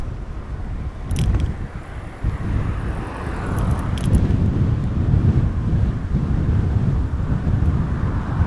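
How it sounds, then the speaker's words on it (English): Strong wind buffets the microphone during a bicycle ride in Miami the day after a tropical storm watch, a continuous low rushing roar with gusty swells and a few brief clicks. "It is getting a little bit windy now, but nothing too crazy."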